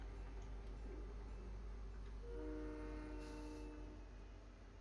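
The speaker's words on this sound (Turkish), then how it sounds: "Tren geliyor." A train rolls past in the video game Fortnite, a faint low rumble carrying steady horn-like tones that swell midway and fade.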